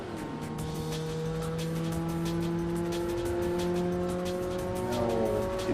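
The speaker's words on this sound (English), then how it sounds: "Now we'll get passed by a Porsche" On a race track, a Porsche's engine whines past, its steady tones climbing and sliding against another car's drone, all fairly faint beneath clattering cabin and wind noise.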